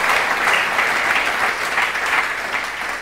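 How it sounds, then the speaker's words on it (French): A church congregation bursts into sustained applause to acclaim the Lord during a Sunday worship service, a dense, steady wash of many hands clapping close by with no voices over it. "Est-ce qu'on peut acclamer le Seigneur?"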